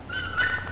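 A dog gives a brief high, thin whimper, steady and fairly close, lasting under a second with no talk over it.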